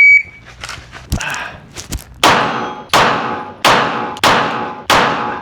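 Glock 17 Gen 6 pistol fired on a range: five sharp, loud gunshots spaced roughly evenly, each with a short ringing decay, preceded by a few lighter clicks and handling clanks.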